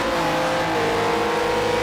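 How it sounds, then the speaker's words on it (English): A classic Renault Formula One racing car screams at high revs on a race circuit, a loud, sustained engine wail holding steady pitch with no voices. "Let's listen to the sound of this Renault. What could sound possibly better than a Renault at high revs?"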